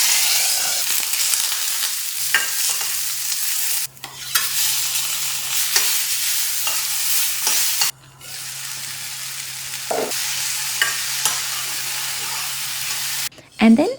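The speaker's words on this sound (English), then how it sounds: "with a teaspoon of oil, half a teaspoon of mustard seeds, curry leaves, 1 onion cut lengthwise that I saute" Sliced onion sautéing in a teaspoon of oil with mustard seeds and curry leaves, a loud continuous sizzle broken by brief pauses and stirring scrapes, with a faint low hum underneath.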